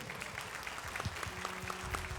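Applause from a seated audience at a business panel discussion, moderate and steady, with scattered individual claps and a faint tonal hum underneath; brief and somewhat distant.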